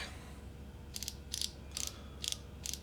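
A fishing reel's drag clicks in five short ratcheting bursts at a steady pace, close and crisp, with no voices.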